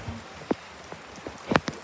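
Hail of small ice pellets lands on a surface in sparse, sharp ticks and taps, a few louder hits standing out over a faint patter.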